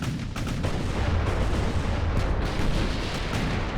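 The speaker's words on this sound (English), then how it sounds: "Whoa, now she took a big hit. Ammo detonated." An ammunition detonation on a warship in the naval game Ultimate Admiral: Dreadnoughts, heard as a dense, continuous deep rumble of booming blasts and heavy gunfire with no pauses.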